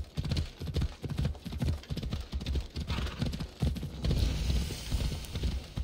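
Horse hooves clip-clop in a steady, brisk rhythm in the video game Assassin's Creed Odyssey, loud and close throughout with no speech over them.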